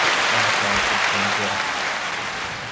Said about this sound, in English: I got a little clapping track right here